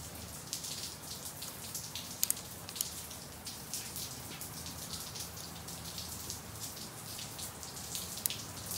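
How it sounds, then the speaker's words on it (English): Rain in the Phoenix desert falls as a soft, even patter with occasional sharper drips striking close surfaces, a steady quiet wash of drops with no voices. "It's raining here in the Phoenix Desert."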